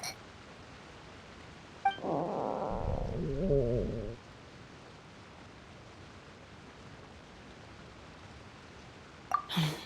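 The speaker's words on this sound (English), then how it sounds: "That would be my stomach growling. I haven't eaten enough." A character's stomach growling in Genshin Impact: a brief low gurgling rumble lasting about two seconds with a warbling tail, alone over quiet background, followed by silence and a faint click.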